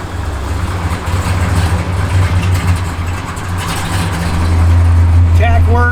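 A 1970 Dodge Super Bee with a lumpy cam idling nearby, a loud, steady low rumble that swells a little near the end, while people talk over it.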